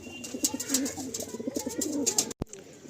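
Pigeons coo in a loft full of Garia pigeons, a steady run of soft, throaty calls from several nearby birds with a brief dropout near the end.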